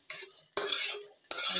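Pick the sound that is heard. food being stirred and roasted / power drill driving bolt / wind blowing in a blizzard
food being stirred and roasted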